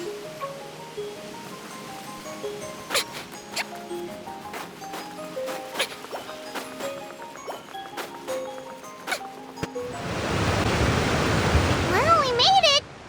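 Game music with plinking notes gives way to a loud, steady roar of rushing water from a powerful waterfall in Genshin Impact, which holds for the last few seconds before cutting off sharply.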